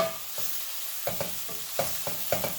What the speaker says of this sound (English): So I'm going to keep it on sim and allow it to saute.